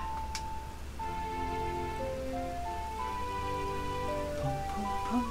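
Steady rain falls on a surface in the Zelda: Majora's Mask video game, a soft constant patter heard alongside a tinkling musical melody of the Song of Storms.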